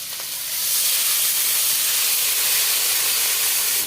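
Water is poured into frying spices, bursting into a loud, broad steam hiss that swells within the first second and holds steadily, close and without talk.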